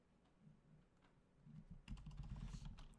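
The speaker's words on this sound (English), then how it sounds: "maybe that's because I wasn't typing in the right thing" Rapid keyboard typing, light at first and then a dense, louder burst of clacking keys close to the microphone, with no one talking over it.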